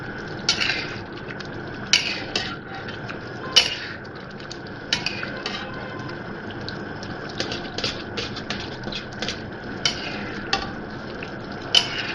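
Mutton being stir-fried for karahi in a pan, a busy run of metal spatula scrapes and clinks against the pan over a soft sizzle, with sharp strikes every second or so.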